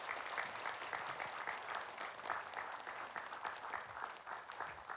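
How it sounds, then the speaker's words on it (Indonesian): Steady, continuous applause from a studio audience of women welcoming an Islamic cleric onto a television show, dense clapping throughout without talk. "Yuk kita sambut Pak Ustadz, ibu-ibu dengan tepuk tangan boleh."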